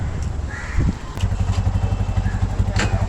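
An auto rickshaw engine chugs with a steady low pulse while riding through city traffic, close and continuous, with faint street noise and brief chirps over it.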